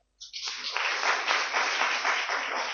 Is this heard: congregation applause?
yes